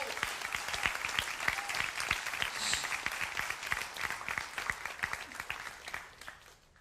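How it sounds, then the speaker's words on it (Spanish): Church congregation applause, a dense run of sharp individual claps from many people, quiet overall and gradually thinning toward the end. "Denle un aplauso al Señor por eso."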